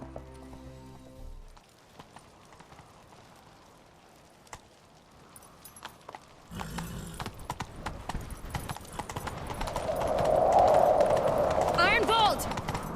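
A horse gallops in The Witcher 3 video game, with rhythmic hoofbeats that build toward the end over game music and ambience. Voices speak in the middle, and a brief whinny-like call rises near the close.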